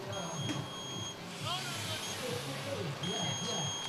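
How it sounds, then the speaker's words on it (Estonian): A breathalyzer at a race event beeps in steady high tones that stop and then start again, heard through a noisy outdoor crowd with voices around. "Unistab 3 piiksu, siis puhub. Pärast 3 piiksu puhub."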